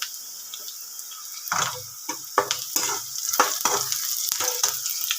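Chopped onions fry in a pan as coriander goes in for a soybean palya, a bright continuous sizzle broken by repeated sharp spatula scrapes and stirs at an uneven rhythm.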